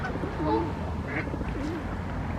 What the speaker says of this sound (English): See the ducks next to them.